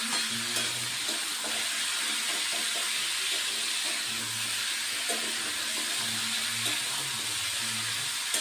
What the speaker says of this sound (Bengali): তার মধ্যে জল দিয়ে দেবো